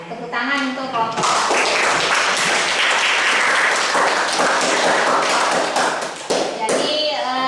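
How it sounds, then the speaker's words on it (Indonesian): A room of students claps loudly for a group that has just presented in class, the dense applause lasting several seconds, framed by brief talking before and after. "Tepuk tangan untuk kelompok."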